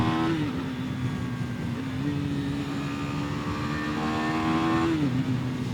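A small-displacement motorcycle engine is held at full throttle, giving a loud, steady high-revving drone with brief pitch dips as it shifts, running throughout with no talking.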